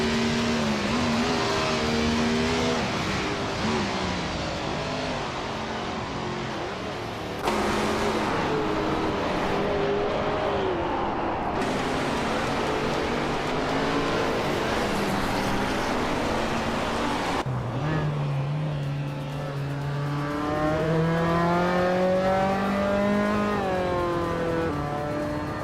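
Race cars in a video game roar past one another in a close battle for position, engines whining and shifting pitch as they overtake, loud and steady throughout with several distinct cars rising and falling in the mix.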